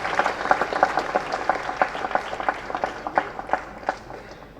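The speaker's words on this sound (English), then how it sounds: "That's an applause that's coming to him decades later" An audience at a film first-look unveiling event in Chennai applauds, a dense, rhythmic burst of many hands clapping at moderate distance, sustained throughout before tapering slightly.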